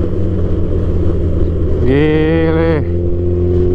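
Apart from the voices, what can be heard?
bus accelerating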